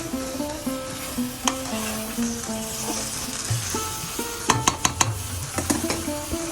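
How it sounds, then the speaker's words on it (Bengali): Washed vegetables, beans and potato, go into hot spiced oil in a pan and are stirred. A steady sizzle runs under repeated scraping strokes, with a louder cluster of clatters near the end and a tonal background throughout. "এখন আমি ধুয়ে রাখা সবজিগুলো দিয়ে দিব। আর মশলার সাথে সবজিগুলো ভালো করে মিশিয়ে নিব।"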